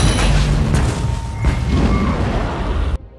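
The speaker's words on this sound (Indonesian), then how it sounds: "Dengan meledakkan tangki bensin, Marcus berniat menghancurkan robot itu." A gasoline tank explodes in an action film scene against a giant robot: a loud, dense boom rolls into continuous rumbling roar for nearly three seconds, then cuts off abruptly.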